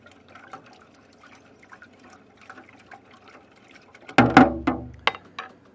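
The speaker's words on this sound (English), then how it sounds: "Go with about a half a cup of pickle juice." Pickle juice pours into a water-based brine for smoked Nashville hot wings, starting with faint drips and small sounds, then a brief, loud gush of splashing liquid with a few trailing drips.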